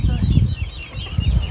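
Chickens cluck repeatedly at close range around a rural village house, a dense stream of short fowl calls with no speech over them.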